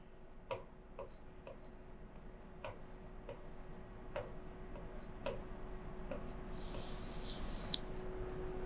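Pen writing on paper during a Hindi accounting lesson on ratios, giving faint, scratchy strokes and small taps in an irregular rhythm over a quiet room hum, with no talking.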